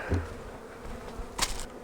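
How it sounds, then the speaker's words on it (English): Honey bees fly back into their hive after being blown off honey supers during a fall harvest, giving a close, steady buzzing drone with a brief louder buzz as one passes near. "there's all those bees I blew out there. They're going back in their hive."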